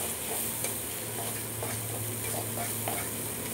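Onion paste fries in hot oil for a boal fish curry, giving a dense, constant sizzle close up, with faint scraping stirs and a low steady hum underneath.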